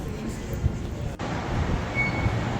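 Washington DCA airport metro station with a train present: a steady low rumble of rail noise fills the space, moderately loud and continuous, with a brief dip partway through and a faint high tone later.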